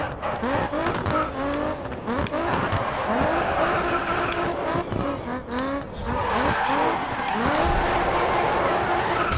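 A race car in Grid Autosport skids and spins out, its tires squealing in repeated wavering shrieks over a loud, revving engine that surges again near the end.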